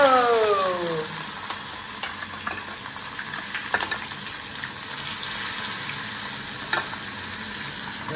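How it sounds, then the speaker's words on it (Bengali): Fish frying in a pan, a steady close hiss of sizzling oil that holds at a fairly quiet level, with a few small clicks and knocks and no talking. "এখানে মাছ ভাজা হচ্ছে"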